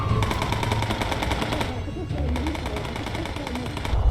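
Rapid machine-gun bursts and gunfire crackle during a bombing run in the video game Bomber Crew, loud and continuous through the clip, with a dip in the middle.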